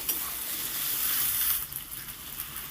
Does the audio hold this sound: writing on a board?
no